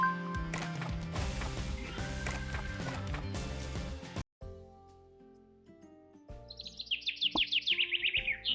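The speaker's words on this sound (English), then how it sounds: "Bird sounds nostalgic." Bird chirping in the mobile game Epic Seven, a quick run of bright, rhythmic tweets near the end after game music cuts out, loud and close with no talk.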